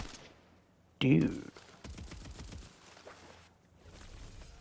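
An SMG firing ice rounds in Tiny Tina's Wonderlands lets off a loud burst, then a rapid rattling stream of shots, with someone briefly speaking over it.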